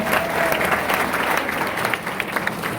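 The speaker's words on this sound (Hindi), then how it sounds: "एक बार जोरदार तालियां हो जाएं।" Vigorous applause from an audience after a solo song at an Independence Day performance event, a steady wash of many hands clapping at close range without talk.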